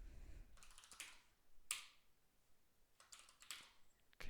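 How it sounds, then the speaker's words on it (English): Typing on a computer keyboard, quiet clusters of quick clicky keystrokes in short bursts separated by pauses, close and alone with a soft background hiss. "I'm just going to go ahead and start by typing this all out"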